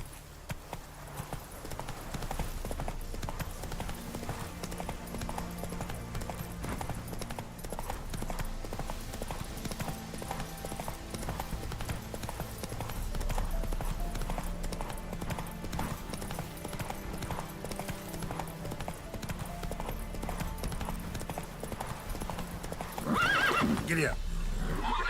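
Roach, a horse in The Witcher 3, trots with steady clip-clop hoofbeats alongside game music, with a neigh near the end and a voice urging the horse on.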